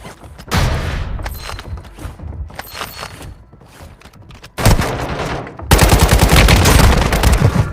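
Gunfire from an AK assault rifle in the mobile shooter game Warzone Mobile: dense, rapid automatic bursts and booms, loud and close, growing heavier toward the end.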